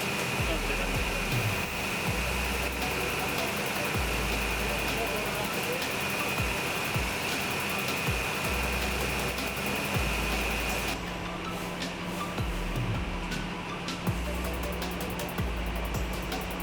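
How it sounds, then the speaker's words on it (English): A 1999 Ford Ranger pickup idles steadily nearby just after starting, a continuous rumbling drone with a fairly even tone throughout, no speech. "The truck turned over and sounded great."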